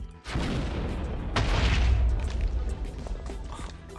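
Modded Minecraft guns fire in a Walking Dead-style game: two heavy, booming blasts close together, each trailing into a rumbling decay.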